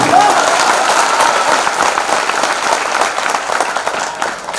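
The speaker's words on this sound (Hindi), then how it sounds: "भक्तगणों को ताली चाहिए" An audience claps at a devotional discourse, with dense, sustained applause that is loud and even throughout, with a faint murmur of voices underneath.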